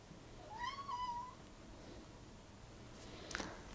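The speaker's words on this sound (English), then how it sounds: "Apart from my cat Riley here meowing there, that was nice and quiet for you" A pet cat meows once, a short rising-and-falling call at moderate distance in an otherwise quiet room, followed later by a faint brief tap or click.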